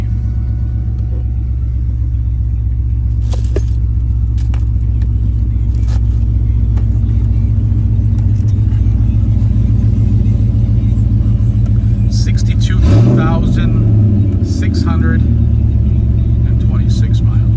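A 2002 Chevrolet Camaro Z28 with an LS1 V8 and a six-speed idles with a heavy, loud, close rumble, then gives a brief rev partway through before settling back; someone speaks intermittently over the engine.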